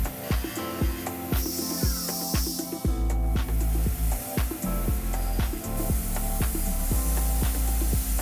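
Milling machine slowly cutting titanium at reduced spindle speed, a steady loud machining drone with repeated sharp tonal chatter and clanks, mechanical and alone without voices.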